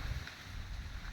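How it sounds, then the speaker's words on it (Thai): Strong, cold winter wind rushes and buffets steadily across an open outdoor spot during crab digging, a continuous low roar with no pauses and no talking. "ลมแรงมากครับ"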